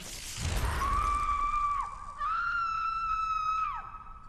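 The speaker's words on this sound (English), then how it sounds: "That girl's scream sounds so much older than it needs to be." A girl's high, sustained scream from the video game Castlevania: Lords of Shadow 2 rings out loud and close, breaking briefly before a second shrill wail that trails off.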